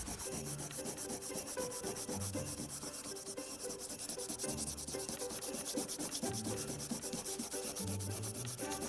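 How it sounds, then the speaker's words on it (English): A carving knife is stroked bevel-flat along leather glued to plywood and smeared with honing compound. The steady, close rubbing has a rhythmic low thump at each pass and continues throughout. "I place the knife bevel flat against the leather and I slide it."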